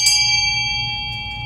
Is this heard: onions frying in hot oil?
no